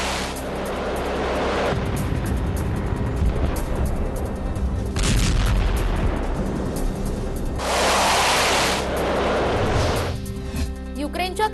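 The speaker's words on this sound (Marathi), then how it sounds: "दुकानाच्या दरवाजावर गोळीबार करत तो तोडण्याचा प्रयत्न रशियन सैनिक करत असल्याचं समोर आलंय" Russian soldiers firing at a shop door in Kherson, Ukraine, during the war: a series of loud, booming gunshot bursts in separate clusters, with heavy rumbling and noisy background between them.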